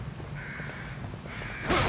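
Crows cawing in the horror video game The Evil Within, a couple of harsh caws over a low rumbling game ambience, followed by a sudden loud burst at the end.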